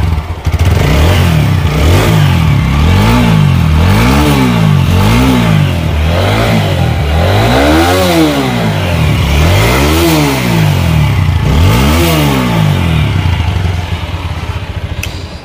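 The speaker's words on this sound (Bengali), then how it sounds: "আমি যদি বাইকটি স্টার্ট করি," A TVS Apache RTR 4V motorcycle engine idles loud and close, then revs up and down repeatedly in rising and falling sweeps, each rev climbing and dropping back to a rough, throbbing idle.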